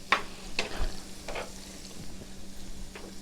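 Minced garlic browning gently in lemon butter sauce in a pan beside trout fillets, giving a soft, close sizzle broken by a few sharp spoon scrapes and stirring clinks.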